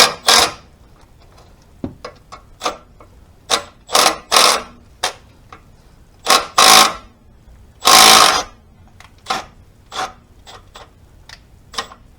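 An impact wrench loosens a bolt on a Chevrolet S10 clutch, firing in short, loud, rattling bursts of varied length separated by quiet gaps, with one longer burst near the end.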